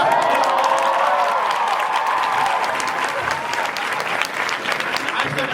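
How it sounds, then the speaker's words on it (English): An audience at a drag convention panel applauds in a dense, sustained wash of clapping from many hands that holds steady the whole time. A voice speaks faintly underneath. "Clap for yourself."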